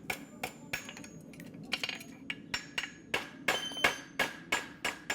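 Hammer blows ringing on metal as a horseshoe is forged on an anvil for a horse that overreaches, about a dozen sharp, bright strikes in an uneven rhythm, close and clear with no talk.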